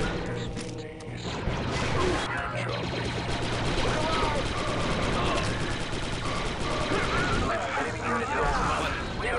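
Continuous heavy gunfire and blaster bursts in the Star Wars Republic Commando video game against super battle droids, dense and loud throughout, mixed with mechanical game effects and voices talking.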